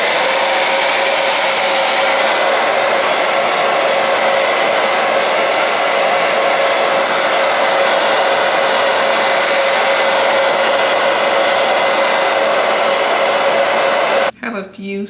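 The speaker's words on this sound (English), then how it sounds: "now we're gonna blow dry it" A hair dryer roars loud and steady at close range while blow-drying a 13x6 lace front wig, running continuously and then cutting off abruptly at the end.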